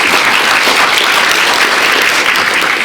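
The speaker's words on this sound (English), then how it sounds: "we'll give you a round of applause" A church congregation breaks into a round of applause, dense steady clapping from many hands that fills the whole stretch at full volume, with no voices over it.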